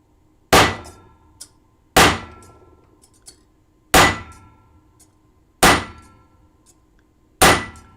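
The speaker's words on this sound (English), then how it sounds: "better to stand when I'm stamping because that's just me" Metal being textured with a stamping hammer, ringing clangs struck at a steady pace, about five sharp near blows each followed by a short decaying ring, with no talk.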